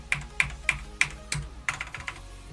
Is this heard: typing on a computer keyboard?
yes